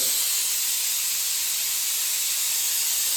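Hot oil hissing steadily in a pan before fish fry, a constant bright close-up hiss with no talk.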